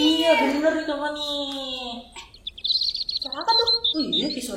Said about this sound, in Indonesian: Suara apa tuh? Oh iya, kayak suara burung ya